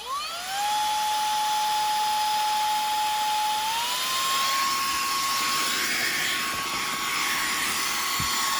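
A Koonie 77000 RPM cordless air duster spools up to high speed with a rising whine that settles into a loud, steady, close high-pitched motor scream, holding constant.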